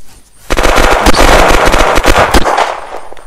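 Enemy gunfire in the Unturned battle royale video game: a loud, close burst of rapid shots lasting about two seconds, then fading out.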